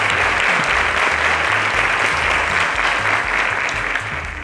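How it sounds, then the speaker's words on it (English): A studio audience at a teachers' edition quiz show claps steadily, a full, even burst of applause that holds throughout and eases slightly at the end. "A round of applause to Mr. Kolawole."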